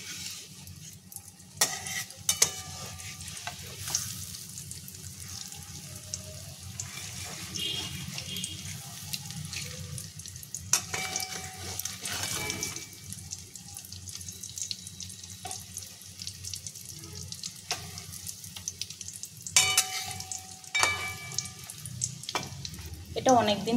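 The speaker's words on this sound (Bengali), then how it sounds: "তেলটা গরম হয়ে যেতে তেলেতে দিয়েছি, দিয়ে বড়াগুলোকে ভেজে নেব।" Gram-flour fritters fry in hot oil, giving a steady crackling sizzle that runs throughout, broken by scattered pops and occasional utensil clatter, with no talking.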